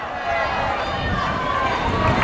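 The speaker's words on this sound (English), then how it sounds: "Crowd cheers as he put it over the roof of the stadium." A crowd cheers at a youth football cup final between Valeo and FC Perafita, a steady, loud roar of many voices that holds without a break, with individual shouts mixed in.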